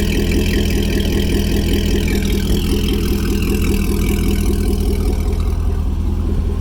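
A C6 Corvette with gutted factory catalytic converters and a straight run back to Corsa Extreme mufflers idles steadily, a deep, loud, even rumble throughout with no talking.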